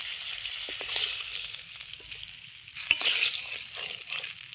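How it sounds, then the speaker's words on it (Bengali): Lightly fried hilsa fish sizzles in a pan, a moderate, continuous hiss of hot oil with scattered crackles and a soft clink or two of a utensil, near and without speech. "আমার মাছটা ভাজা হয়ে গেছে"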